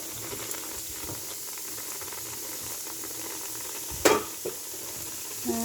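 Onions frying in a pan while chicken is being prepared, a steady soft sizzle running throughout with a brief louder burst of crackle near the end, no voices.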